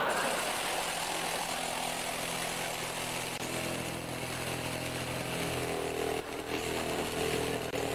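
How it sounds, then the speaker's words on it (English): A modern handheld power saw cuts through a piece of wood, giving a loud, steady motor whine and rasping bite that runs unbroken for about eight seconds with no talk. "It's one of these new-fangled power saws, and I'm going to use it to cut the next piece here."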